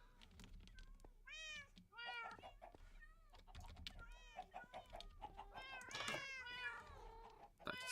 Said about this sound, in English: Like so many cats.